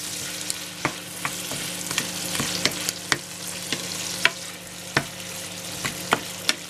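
Food sizzles and crackles steadily in a pan, with frequent sharp pops and light clicks from stirring, close up and without voices.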